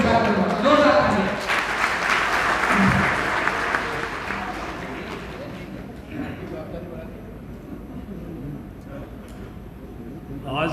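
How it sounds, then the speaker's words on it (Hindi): Loud applause from the crowd at a public meeting, strongest at the start and gradually thinning to scattered claps, with faint voices underneath. "जोरदार तालियां।"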